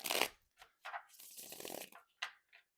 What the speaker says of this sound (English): You can hear that you can just hear it in the cards